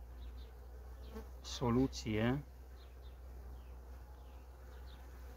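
Honey bees buzzing around a hive, a faint continuous hum under a brief spoken word from a nearby man.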